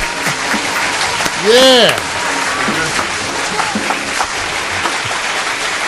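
An audience applauds at a live interview event, a steady wash of clapping throughout with a cheering voice rising briefly in the middle and people talking over it.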